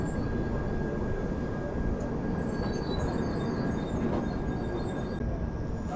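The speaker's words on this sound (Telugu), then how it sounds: "ఎస్ఎంవిటి బెంగళూరు, భువనేశ్వర్ హంసఫర్ అండి" The SMVT Bengaluru–Bhubaneswar Humsafar Express rolls past, producing a loud, steady rumble of wheels and carriages with high metallic squeals and clatter joining partway through.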